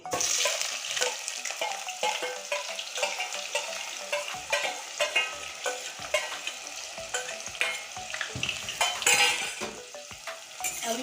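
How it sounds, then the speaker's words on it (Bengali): Two large onions dropped into hot oil and frying, a loud crackling sizzle with frequent spoon stirring and scraping against the pan, close and continuous. "এখানে আছে বড় সাইজের দুটো পেঁয়াজ আমি তেলে ছেড়ে দিচ্ছি"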